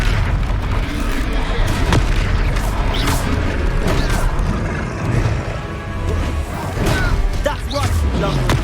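Confringo fire spell blasting in the Hogwarts Legacy video game, a continuous loud barrage of booms and impacts amid battle noise, with voices calling out.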